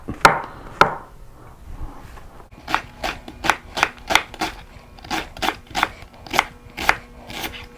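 A knife cuts through pork loin on a board, producing a steady series of about a dozen crisp, evenly spaced slicing thuds, close and clear, after two sharper knocks at the start.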